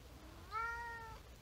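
A cat gives a single clear meow, rising then falling, close and fairly loud against a quiet background; no one speaks.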